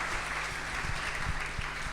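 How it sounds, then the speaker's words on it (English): Audience applause after a speaker is invited up at a community meeting, a steady dense patter of many hands clapping throughout, fairly close and even in level. "We'll give her a round of applause."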